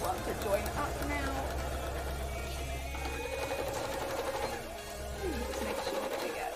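A sewing machine doing free-motion embroidery on fabric for cosplay, its motor humming in a steady, fast stitching run, pausing briefly before resuming, with a voice talking over it.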